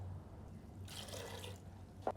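Water pours into a pot of Lahori qeema in a brief, soft splashing rush lasting under a second, with a small clink afterward and no talking.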